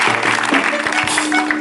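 Clapping from a church congregation for Jesus Christ, a short burst of lively hand claps mixed with voices.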